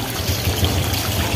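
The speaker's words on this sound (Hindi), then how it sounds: "पानी का पाइप भी फटा हुआ है, पानी गिर रहा है" Water gushes steadily from a burst water pipe along a city street, a loud, continuous rushing splash with no pause.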